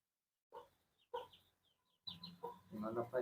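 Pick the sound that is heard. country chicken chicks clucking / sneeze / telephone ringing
country chicken chicks clucking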